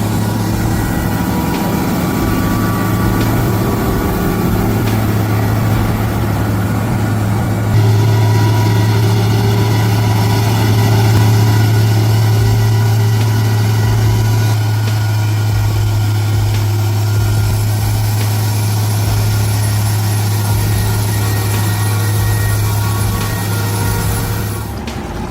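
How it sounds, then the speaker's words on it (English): A modified log truck's engine labours on a steep mountain road, a loud steady low drone with a heavier rumble rising midway, running continuously without talk. "The souped-up log truck on that treacherous road sounds like a Hollywood stunt."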